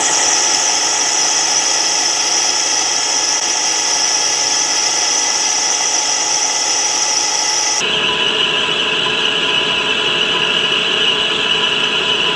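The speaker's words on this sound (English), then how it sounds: "So going to be starting the work over on the lathe and finishing it up on the milling machine" A lathe machines lobed sections of a shop-built knurling tool, giving a loud continuous mechanical whine and hum that shifts abruptly to a lower pitch partway through, with no talking.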